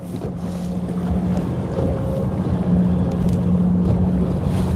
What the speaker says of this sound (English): This northeast wind looks like it's picking up a little.